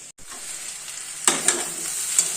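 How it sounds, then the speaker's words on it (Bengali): Potatoes fry in a kadai with a steady close sizzle, broken by a few sharper crackles and spatters as the pieces settle into the hot oil. "তো যাই আমি আলুটা ভেজে নিই"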